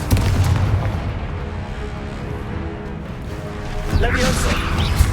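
A Confringo fire-blast spell from the Hogwarts Legacy video game bursts in a series of loud booming explosions over a rumbling battle bed, with character voices mixed in.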